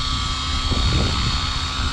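An Align T-Rex 550X RC helicopter hovers on a check flight at 70% throttle, its rotor and motor giving a steady whirring drone with a brief swell of low buzz, heard alone.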